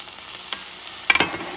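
Bison or beef meat chunks sizzling and being stirred in a hot pan, a soft steady fry punctuated by a few sharp scraping stirs near the end, close and fairly loud with no talk.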